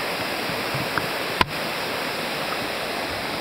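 Steady broadband rush of the Cachoeira Alta waterfall on a forest trail, constant and fairly loud, with one brief click partway through and no talking.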